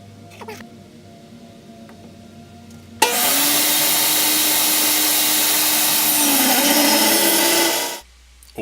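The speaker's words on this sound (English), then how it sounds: "I took it over to my table saw and made 2 cuts." A table saw cuts through a block of maple from a fallen tree: after a quiet start, the blade bursts into a loud, steady roaring whine for about five seconds, then cuts off abruptly.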